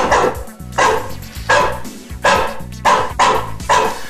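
Dogs bark at a dog sport event: about five loud, close barks in a steady repeating rhythm, with no talking.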